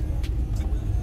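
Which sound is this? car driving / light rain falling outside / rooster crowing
car driving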